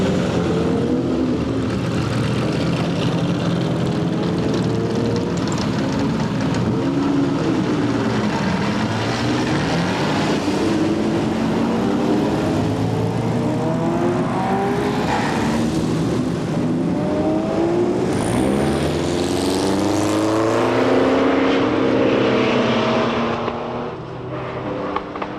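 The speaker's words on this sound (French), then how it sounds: "Les Ferrari s'en donnent à cœur joie. Pensez donc, cette 250 GTO" Ferrari 250 GTO racing cars at the Tour Auto 1992, engines roaring loud and continuous with rising and falling revs as they pass, no talk.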